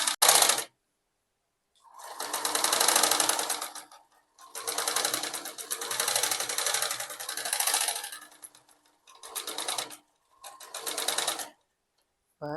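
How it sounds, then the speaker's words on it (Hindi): A sewing machine runs in several bursts, stitching a back stitch on a kurti, its fast rhythmic clatter starting and stopping with short silent pauses between runs, close and clear. "एक बैक सिलाई इसी के ऊपर मैं लगाऊंगी"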